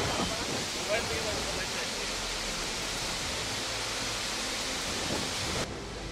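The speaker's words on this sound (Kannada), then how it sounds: "ಇದು ಬೆಳಗಾವಿ ಜಿಲ್ಲೆಯ ಪ್ರಸಿದ್ಧ ಗೋಕಾಕ್ ಫಾಲ್ಸ್." Gokak Falls in Belagavi district roaring in full flood, a steady dense rush of falling water filling the whole clip, with a voice speaking faintly over it.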